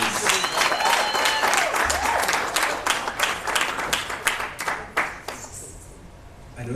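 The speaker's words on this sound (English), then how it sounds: "you can please give my new president another round of applause" An audience claps for a new president at a live network session at a garden cafe: dense, sustained applause that thins into scattered claps before fading, with a voice faintly audible early on.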